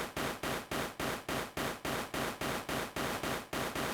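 Noise from a Digitone II FM synthesizer with noise ring modulation switched on, hitting as a steady run of about fourteen loud, bright, hissy bursts, each cut off sharply, repeating evenly with no voice.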